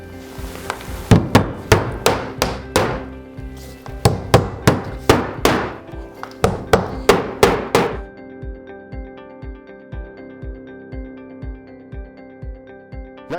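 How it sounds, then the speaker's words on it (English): Hammer blows drive nails through the flange of a vinyl siding corner post, struck in quick, sharp bursts of several hits each with brief pauses between groups, then shifting to lighter, evenly spaced taps. "Now it's just a matter of nailing off your vinyl nailing flange every other hole."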